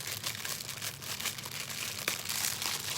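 Crinkly plastic packaging is worked open by hand, giving soft, continuous rustling and crackling with one sharper crackle near the end, quiet and close, with nobody speaking.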